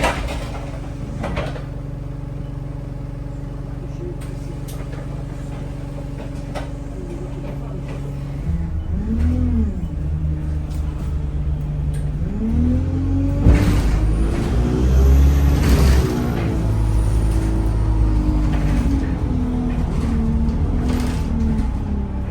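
A bus moves along a cold town road with a steady, loud low engine rumble, with tonal whines and a sweeping engine note rising and falling midway as it passes close by.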